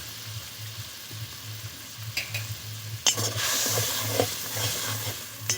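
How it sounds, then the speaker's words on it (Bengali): Spice paste and tomatoes for a fish roe curry sizzle in hot oil as they are stirred and fried, a steady close sizzle with occasional scraping stirs and a low pulsing hum underneath. "ভালো করে মশলাটা কষিয়ে নেব"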